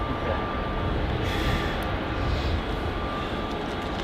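A Jetstar Airbus A321 airliner passes close by at Melbourne Airport in extreme wet weather, making a steady, loud, broadband roar that fills the whole stretch without letting up. No one speaks.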